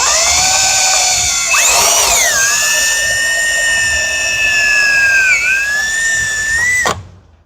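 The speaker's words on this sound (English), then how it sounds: "After we drill into the HFC with the 4mm drill bit" A power drill with a 4mm bit whines steadily at high pitch, close and loud, its tone dipping and rising as it bites into a Yamaha SuperJet hull, then cutting off abruptly near the end.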